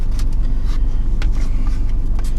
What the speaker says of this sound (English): I'm in my car. So I have the car running with light air conditioning.